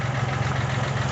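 A 1980 Kubota tractor engine idles after warming up, a steady low rumble with even pulsing, close and loud, running alone for about a second.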